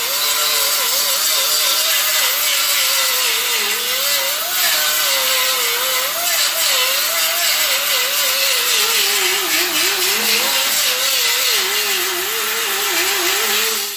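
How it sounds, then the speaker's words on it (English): An angle grinder grinds down a weld bead for a flat, rolled-off edge, a loud continuous whine whose pitch wavers as the disc bites and eases over the metal. "So I'll just take the grinder now. I'm going to grind this off here, flat here, roll off the edge of it here."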